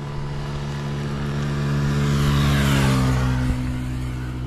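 A motorcycle engine runs steadily, and its revs swell up and then settle back down. The sound is close and loud, with no talking.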